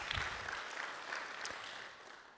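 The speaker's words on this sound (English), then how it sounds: "Round of applause for them." An audience in a university lecture hall applauds steadily, a dense even wash of clapping that holds at a moderate level and fades slightly toward the end.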